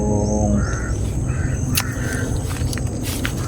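Several crows caw in short harsh calls at mid distance, repeated a few times over a steady low background rumble, with no one speaking.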